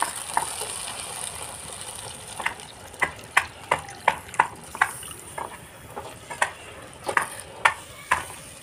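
Sago stirred in milk in a pot for Bengali payesh, a series of soft scraping and knocking strokes against the pan, irregular at first and then quicker, close and moderately loud over a faint steady hiss.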